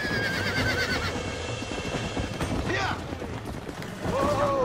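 Horse whinnies and neighs in the Red Dead video game, high wavering calls at the start and again near the end over a busy bed of hoofbeats and game noise, with a voice talking underneath.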